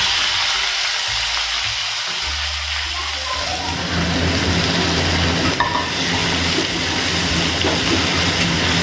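Chopped onions, about 300 grams, dropped into hot oil: a loud, steady sizzle and frying hiss that swells after a few seconds and runs continuously under someone speaking Bengali.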